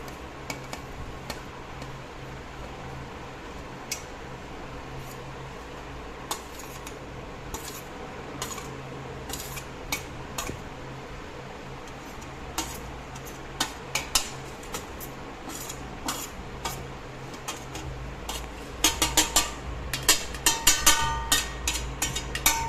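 Metal spoon clinking and scraping in a bowl while black pepper, oregano, chilli flakes and chaat masala are mixed for a breadless sandwich, irregular light taps that grow quicker and busier toward the end.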